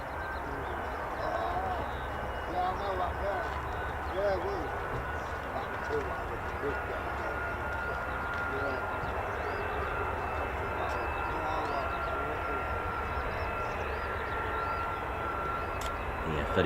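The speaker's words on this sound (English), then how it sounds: "look at these F-15 Strike Eagles in the background as well" A steady, loud roar of F-15 Strike Eagle and F-35 fighter jets at RAF Lakenheath air base, continuous and unbroken throughout with no distinct passes.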